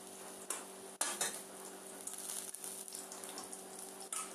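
Dry Maggi instant noodles dropped into a metal pan on the stove, giving a brief clatter and scrape of dishes against a steady background hum, with a second knock near the end.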